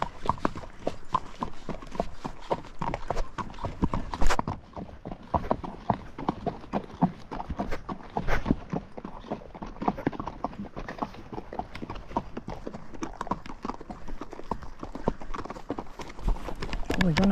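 Horse hooves clip-clopping steadily along a desert trail ride near the Loma Alta trailhead, close and rhythmic, with someone talking over the hoofbeats.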